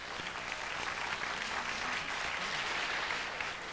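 A game-show studio audience applauds steadily, a dense, even patter of many hands filling the room with little else over it.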